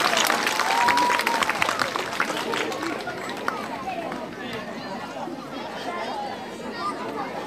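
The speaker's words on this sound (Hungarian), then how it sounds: "adjunk egy nagy tapsot a BHC csoportnak!" A crowd applauds a kindergarten group at a year-end ceremony, with steady dense clapping that slowly thins, mixed with children's chatter and background voices.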